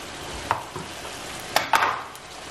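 Pork ribs dropped into a pot of sauce, giving a few soft thuds followed by short bursts of sizzling and bubbling, close and moderately loud with no talking.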